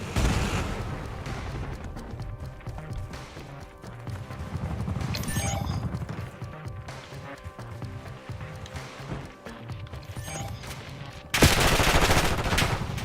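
Video game gunfire rattles in rapid bursts alongside a frag grenade blast, with a clattering rhythmic texture throughout and a loud burst near the end.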